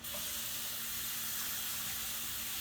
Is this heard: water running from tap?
yes